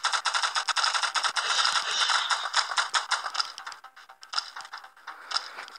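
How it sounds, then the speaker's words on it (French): Rapid automatic rifle fire from a Doom clicker video game, a dense crackling burst of shots at steady close range with a brief lull near the end, no voices. "Le fusil fait des tirs dans la hauteur."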